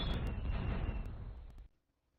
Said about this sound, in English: There goes some fireworks for you.